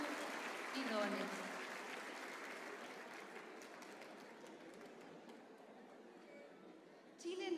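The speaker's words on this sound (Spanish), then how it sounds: "Un fuerte aplauso para cada uno de ellos" An audience at a folk dance gala applauding, a dense wash of clapping that slowly fades, with a fresh burst swelling up near the end.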